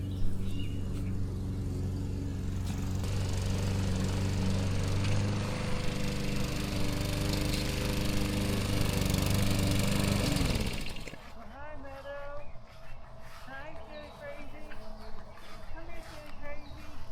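A lawn mower drones loudly and continuously while mowing a neglected garden, then cuts off, leaving quieter outdoor background with scattered birdsong.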